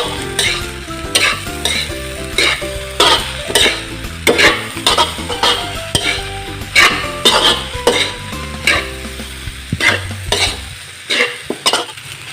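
Homemade Ilocano-style fried rice being stirred and tossed in a pan as the final ingredient goes in: loud, rhythmic scraping and clattering strokes over a soft frying sizzle, with steady tones underneath and no talking.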